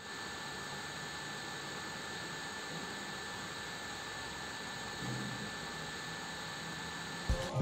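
A MacBook Pro Early 2011 under heavy load while rendering video, its cooling fan roaring with a steady, loud jet-like whoosh from start to finish, with a brief thump near the end.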